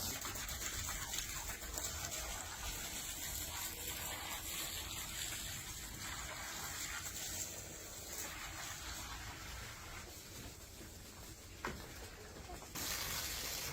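Compost accelerator being stirred into a bucket of water gives a steady, dense sloshing and gushing wash that runs nearly unbroken for the whole stretch, fairly close and with no voices.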